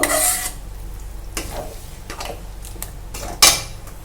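Onion tomato paste for dhaba-style chicken curry is stirred in a pan over high heat: a light sizzle underneath, with spatula scrapes and clinks against the pan at irregular intervals, no voices.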